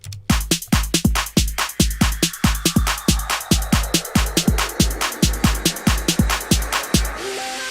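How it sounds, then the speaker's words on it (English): White noise riser in a music track, a hiss swelling steadily in loudness over a punchy, evenly spaced kick drum beat and ending in a bright wash of noise. "I have white noise rising up to help build it"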